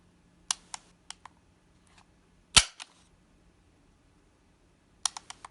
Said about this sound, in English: if I were to pull it back, again, you hear all these little intricate clicks